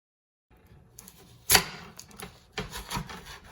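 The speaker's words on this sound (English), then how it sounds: "we're going to have peel and dice an onion" A knife chops through a peeled onion on a cutting board for a pasta parmesan meal kit, giving a few sharp, separate knocks after a quiet start, close and clear with no talking.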